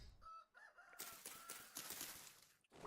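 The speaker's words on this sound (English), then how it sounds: "I hear chickens." Chickens in the survival crafting game Vintage Story cluck and crow amid a busy, noisy game soundscape, with several short fowl calls over about three seconds and no talking.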